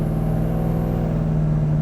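A 1972 Chevrolet Chevelle SS 454 V8 with Sniper fuel injection runs close by, a loud, steady, deep engine rumble with no pauses and no voices.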